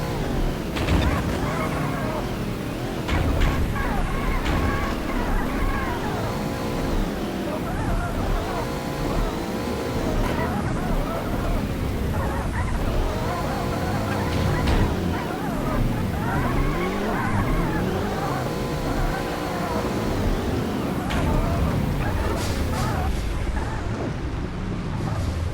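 Car engine revving and tyres squealing in the video game Payback 2, continuous and loud throughout with shifting engine pitch and skids, with occasional game voices underneath.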